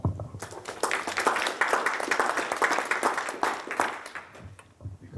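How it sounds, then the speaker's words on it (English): A crowd at a Spring Lake town meeting gives the aldermen a round of applause, steady clapping that swells and then fades out near the end. "just give everybody here a round of applause"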